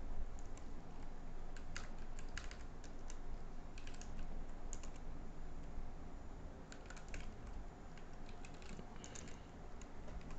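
Computer keyboard typing while writing Python code, steady clusters of soft clicking keystrokes, fairly quiet and close, with no talk over them.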